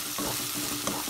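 Tomato masala with coriander, mint and salt frying in a pan, giving a brief, steady, close sizzle broken by a quick stirring scrape.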